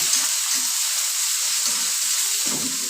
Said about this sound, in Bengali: আমি সম্পূর্ণ পেঁয়াজটা সুন্দর করে লাল লাল করে ভেজে নেব।